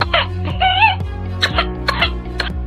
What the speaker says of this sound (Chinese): 鸡鸣声，剧烈咳嗽且时间长，可能就是百日咳